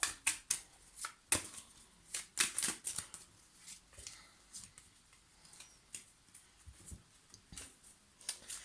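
Crisp papery riffling and flicking of tarot cards being shuffled in short irregular bursts, close by and fairly quiet, with soft taps between.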